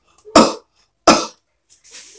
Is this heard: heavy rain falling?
no